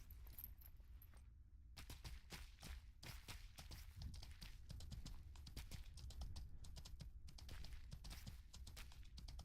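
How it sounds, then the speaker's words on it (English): A horse's hooves clip-clop in steady rapid rhythm through Mortal Online II, a quiet, close, continuous patter of footsteps with no talk over it. "I swear, my horse makes me so paranoid. Every time I hear its footsteps behind me,"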